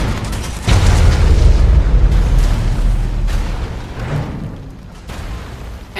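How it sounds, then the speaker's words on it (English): A nuclear warhead detonates in the strategy game C&C Rivals: a loud, deep boom that swells into a long rumbling roar, then slowly fades with a second swell near the end, and no voices. "Nuclear warhead launched."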